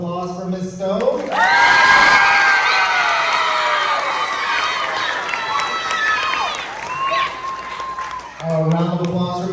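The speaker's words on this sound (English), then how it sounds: "A round of applause for Miss Stone." An audience at a school event applauds and cheers for a teacher, a loud burst of clapping, shouts and whoops from many voices, including children, swelling quickly and holding for several seconds before a voice speaks again.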